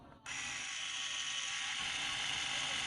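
An electric shaver's small cleansing brush attachment switches on and keeps up a steady, rattling mechanical whir, close and unbroken.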